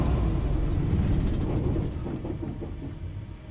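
A truck's engine rumbles from inside the cab, a loud, low, steady drone that eases slightly in volume toward the end, with no speech.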